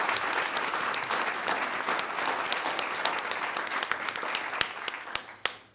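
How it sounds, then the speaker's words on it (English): A school board audience applauds two honored students with a steady, full round of clapping that thins into a few last scattered loud claps before fading out. "Let's give those 2 a big round of applause for being here tonight"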